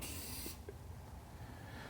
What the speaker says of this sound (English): I got a fly I need to kill, but all I got is some Lysol.